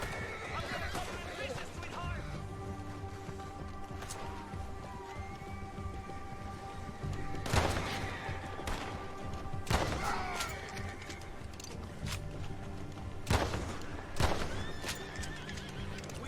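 A horse whinnies amid galloping hooves and sharp crashing bursts, with Red Dead Redemption II game ambience and a voice talking intermittently underneath.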